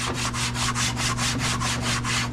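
A plastic dash cluster panel is scuffed by hand in prep for dyeing, giving a steady rhythmic rasp of quick back-and-forth strokes, roughly four per second, close and even, over a faint constant hum.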